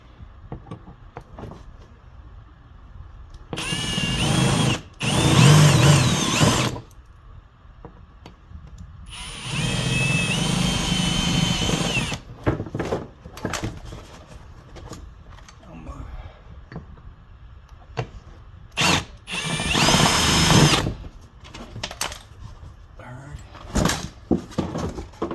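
A power drill drills out rivets on an EZGO golf cart body during a teardown, heard as three loud whirring bursts of a few seconds each with quieter handling noise in between.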